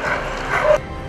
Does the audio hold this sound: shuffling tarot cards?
no